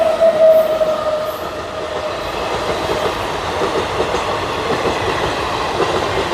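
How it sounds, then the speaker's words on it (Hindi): An express train on the long Howrah to Jammu Tawi route runs through a station without stopping, a loud, continuous rumble with rhythmic wheel clatter and a faint squeal, heard from the platform. "ट्रेन आ चुकी है"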